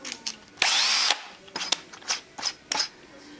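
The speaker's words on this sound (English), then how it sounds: "Just a ratcheting chuck option." A new Craftsman cordless drill gives a short whir, then a series of quick clicking bursts as its ratcheting chuck is twisted by hand, close and fairly quiet.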